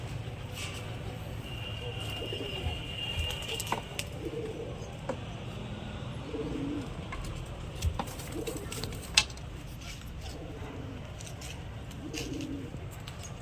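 Pigeons in a household flock coo repeatedly in low throaty murmurs nearby, with occasional brief flutters and small clicks over a steady outdoor background hum.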